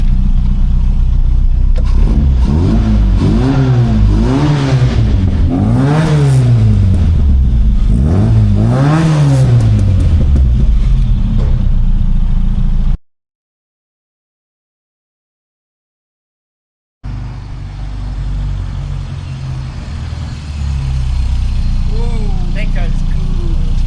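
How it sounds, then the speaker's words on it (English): A tuned Mini engine revs up loudly in repeated rising sweeps, then settles to a warm idle; the sound cuts out briefly before a steady idle resumes. "All dialed in, sitting there warm idle."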